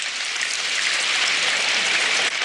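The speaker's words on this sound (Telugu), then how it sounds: "ఈ వాన ఎప్పుడు ఆగుతుందో నాకు తెలియడం లేదు" Steady rainy-season rain pours down in a dense, even hiss for the whole stretch, close and loud with no voices.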